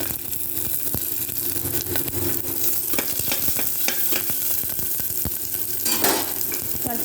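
Curry leaves, black mustard seeds and onion fry in hot oil with a steady, loud sizzle that runs throughout, broken by frequent stirring scrapes and light clinks of a utensil against the pan.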